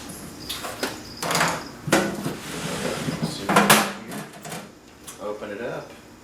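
The side door panel of a Hobart Handler 190 welder is opened, with several close metallic clunks, rattles and scrapes of sheet-metal handling, some louder knocks near the middle and softer clatter after.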